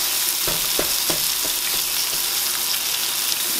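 Onions frying in butter and pork chop drippings in a pan, a steady close sizzle with occasional stirring scrapes and soft pops throughout.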